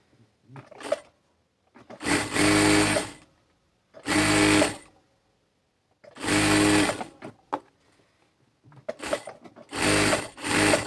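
An electric sewing machine runs stitching a half-inch seam along a kameez hem, in five or six loud bursts of rapid whirring stitches separated by short pauses, close and alone.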